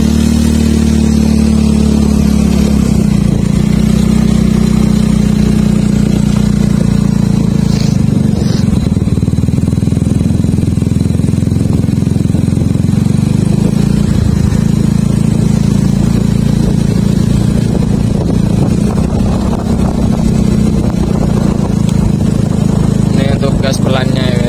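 Yamaha Mio Smile scooter fitted with a ZRC exhaust, riding along a village road: a steady, loud engine drone with mild rises and dips in revs, heard close throughout while someone talks over it.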